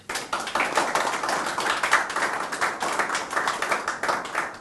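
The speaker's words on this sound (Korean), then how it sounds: "우리 정만호 후보에게 큰 박수를 부탁드립니다." A crowd claps steadily at an election campaign launch press conference for candidate Jeong Man-ho, a dense, continuous patter of hands at moderate distance lasting throughout.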